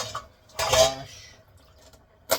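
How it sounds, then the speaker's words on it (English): A knife being washed in a kitchen sink: a brief clatter of metal against the basin, then quiet dripping and a second short knock near the end, close and fairly soft. "We're going to wash the knife because we clean as we go along, especially with knives."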